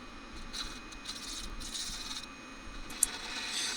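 A wooden box lid being shaped by hand, giving a steady, close rubbing and rasping scrape that continues throughout with brief pauses and one sharp tick near the end.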